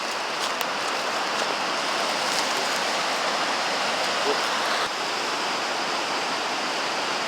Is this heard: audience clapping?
no